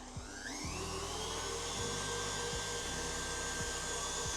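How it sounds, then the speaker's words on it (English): An electric mixer beats sugar into meringue for a lemon meringue pavlova, giving a steady, close, high motor whine with a faint grinding rattle throughout. "So we're going to keep beating until that is lovely and smooth."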